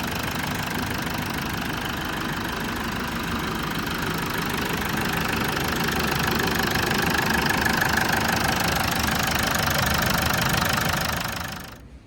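A diesel engine runs steadily under the hood of a 4WD with a knocking, rumbling idle, loud and close throughout, with no voices before it cuts off near the end.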